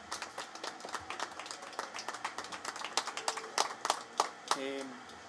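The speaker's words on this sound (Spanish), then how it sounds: "La iglesia le da un fuerte aplauso de bienvenida" Scattered handclaps from a church congregation welcoming newcomers, starting sparse and uneven, then thickening into quick irregular claps before tapering off, with a brief hum of voices near the end.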